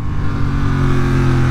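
A 2023 Honda Hornet CB750 motorcycle engine pulling hard in second gear into a wheelie, a loud, close, sustained droning roar with steady rising intensity and no talk.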